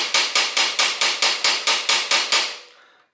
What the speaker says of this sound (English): use a hammer to tap the pin back through some more